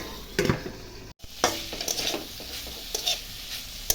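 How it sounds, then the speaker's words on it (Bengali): Beans and carrots stir-frying in a pan, a soft sizzle under repeated scraping stir strokes and light clinks, close and moderately quiet, with one brief dropout early on and no talking. "এখন এই যে ভাজা ভাজা একটু করব, করে আমার সিম আর গাজর ভাজা হয়ে যাবে।"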